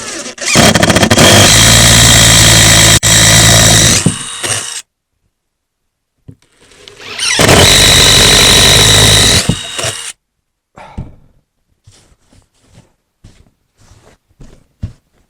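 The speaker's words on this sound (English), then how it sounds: "I'm just going to drill them in with the same drill bit I used earlier on" A power drill bores holes for toilet seat prongs in a wooden compost toilet top, in two loud, sustained bursts of several seconds each. Scattered knocks and handling clicks follow.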